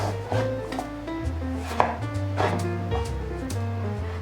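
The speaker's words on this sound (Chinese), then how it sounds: "红萝卜切一半， 切成厚片状。" A knife chops a halved carrot into thick slices on a board, making about eight steady, close thuds, roughly two each second, over continuous background music.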